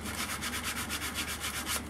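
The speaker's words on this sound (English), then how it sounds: "This is a piece of 150 that I'm using, which is, when I was a kid, I thought 150 was a good fine sandpaper." A wooden Native American flute being sanded by hand with 150 grit sandpaper, a steady rhythmic back-and-forth rasp with about a dozen strokes, close and alone with no talk.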